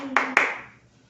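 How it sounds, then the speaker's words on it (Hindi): Two sharp hand claps from young children in a kindergarten Hindi class, close and distinct, each ringing briefly before fading into quiet. "मिलकर बजाओ बच्चों ताली"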